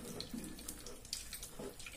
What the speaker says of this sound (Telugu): ఈ విధంగా ఫిల్టర్లో వేసుకుని ఇలా కొద్ది కొద్దిగా వాటర్ పోస్తూ